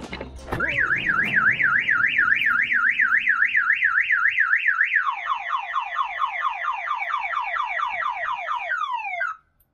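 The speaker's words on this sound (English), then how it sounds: "The alarm works, that's good." Car alarm on a super-wide, super-long Toyota Hiace van, sounding loud and close: a rapid warbling siren, then a series of quick descending chirps, stopping abruptly near the end.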